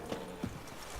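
A horse's hooves clip-clop in The Witcher 3: Blood and Wine, two or three faint, spaced hoof strikes over a quiet ambient background.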